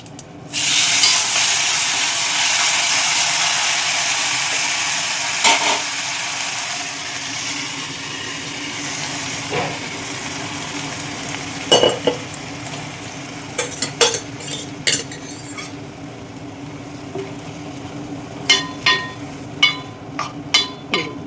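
A loud burst of hissing sizzle as hot tempering hits cooked dal, fading over several seconds, then scattered pops and clinks of stirring.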